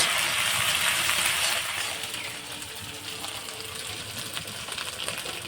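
A paste of ginger, garlic and dried chilli frying with onions in a pan, a steady close sizzle that eases slightly after the first couple of seconds and carries on evenly.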